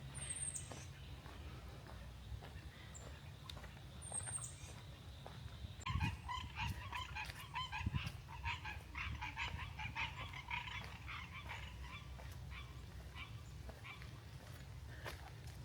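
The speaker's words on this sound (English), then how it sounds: "there's geese out there" Geese honk at a nature preserve on a hike, the calls faint and distant, coming in scattered bursts over a low outdoor rumble along with other squawking birds.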